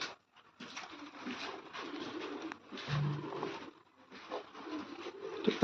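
Pigeons coo softly in the rainy season, with several low, rounded calls spread through a faint, busy background and short pauses between them.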